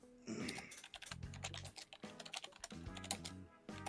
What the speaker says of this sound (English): your keyboard clicks